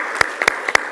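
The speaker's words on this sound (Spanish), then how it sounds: "les pido un aplauso" A handful of sharp, separate claps rise over a steady background hiss at a formal forum on labor reform, sounding thin and scattered rather than like a full ovation.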